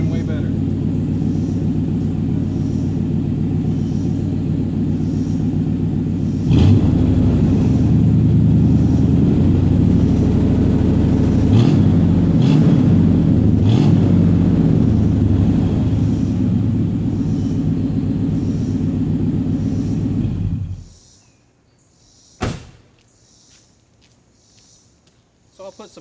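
A 1990 Chevy K1500 with a 5.7L 350 V8 and a new exhaust rumbles at a deep, steady idle. The engine swells louder partway through, then cuts off abruptly, leaving near silence and a few brief knocks.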